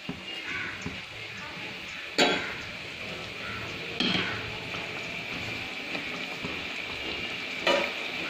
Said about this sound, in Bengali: মিডিয়াম ফ্লেমে 5 থেকে 10 মিনিটের মতো রান্না করে নেব।